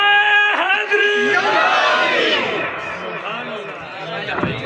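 A large crowd shouts back in unison to a religious slogan, a loud, sustained roar of voices with chanted calls rising and falling, at a gathering near the Ganda Singh border.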